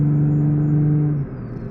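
Car engine idling along at low revs in sixth gear under light throttle, a steady low drone with a clear harmonic hum that drops away slightly near the end, close and continuous with no talk.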